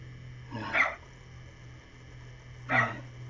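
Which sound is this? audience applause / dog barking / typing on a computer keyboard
dog barking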